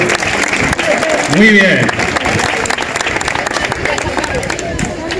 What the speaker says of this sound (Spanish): Otro aplauso grande.